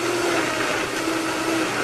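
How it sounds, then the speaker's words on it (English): A kitchen blender runs steadily throughout, pureeing a pasta sauce base with pasta cooking water in a continuous loud whir, with no talking. "Let's get that into a blender."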